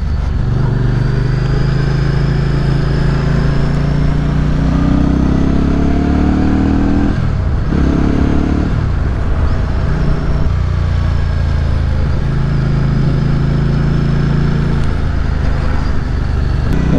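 The engine of a Benda Napoleon 500 motorcycle on an unrestricted A2-class ride, a loud continuous droning rumble with gear changes and rising and falling revs, heard close up under wind noise.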